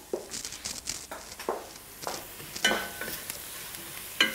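Leek sautés in a pan with soft sizzling under intermittent stirring scrapes and knocks, close and fairly quiet, with no voices.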